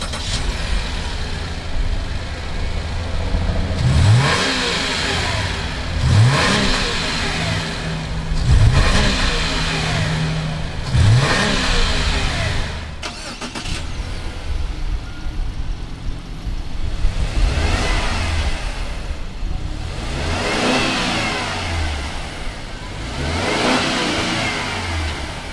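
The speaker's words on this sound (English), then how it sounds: "let's go ahead and fire both of these Subarus up and see what they sound like." Two 2019 Subaru SUVs, an Outback 3.6R and an Ascent, start up and rev repeatedly, with about six loud surging rev bursts rising and falling over a steady engine rumble, heard close and with no talking.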